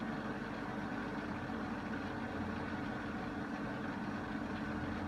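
A Beko WM5100W washing machine runs its drain pump at the end of a wash and spin cycle, giving a steady, continuous mechanical hum with a constant low drone throughout and no talking.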